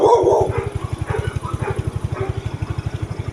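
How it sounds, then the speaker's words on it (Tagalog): A big dog gives a quick burst of deep barks, then a steady rhythmic low thumping pulse like an idling motorcycle engine carries on underneath, with faint street noise around. "Ang laki ng aso, pakatakot."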